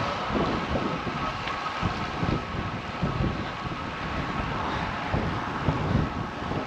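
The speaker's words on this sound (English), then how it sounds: "we have a powerful wind today" Strong wind buffeting a cyclist's microphone on a road ride, continuous loud rumbling roar with gusty fluctuations throughout, drowning out other sounds.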